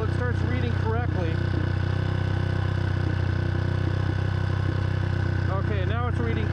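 A motorcycle engine idling rich, a steady continuous drone close by, with someone talking over it.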